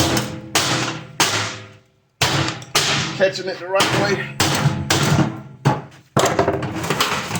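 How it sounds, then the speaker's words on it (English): A claw hammer prying and knocking open the casing of a scrap microwave, with sharp metallic thumps and bangs spaced irregularly while someone talks over the work. "I get around that by using the back claw edge of the hammer"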